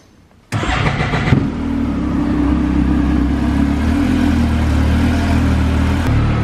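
A cold Honda TRX 450 ATV and Yamaha YXZ 1000 side-by-side crank and fire up abruptly on a cold December day, then settle into a loud, steady rumbling idle with slight revving, close by.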